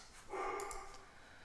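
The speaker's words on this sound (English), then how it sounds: "That's my dog. She barks a lot." A pet dog, a female, gives a short burst of barking indoors at moderate level, a brief yip-like outburst that fades quickly with no one talking.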